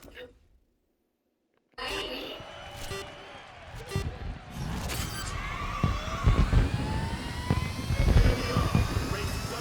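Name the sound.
electric race cars driving in video game Grid Legends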